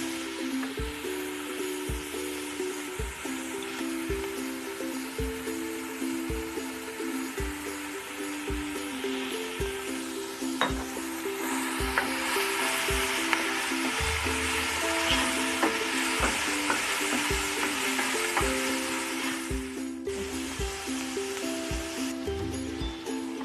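Trinidad-style fried rice vegetables frying in sesame oil, stirred in a pan: a continuous loud sizzle with regular scraping strokes of the utensil, close and unbroken by talk, swelling louder partway through.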